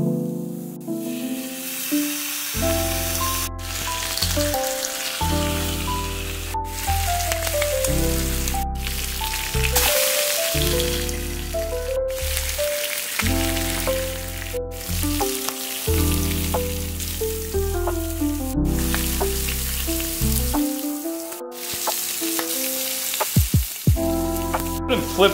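Bacon sizzles and spits steadily in a frying pan, a dense continuous crackle running the whole time beneath loud, rhythmic background music.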